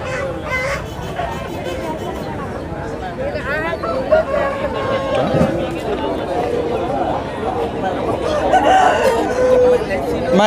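Roosters crowing repeatedly at a busy country chicken market in Bhogapuram, Vizianagaram, with clucking birds close by and a constant babble of traders and buyers talking over them.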